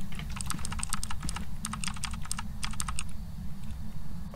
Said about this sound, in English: Is that the sound of typing?